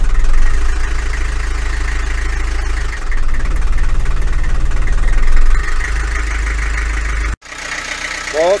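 A motor engine running at a weak, low idle, steady and close, with a brief dip partway through and an abrupt drop near the end as a voice speaks.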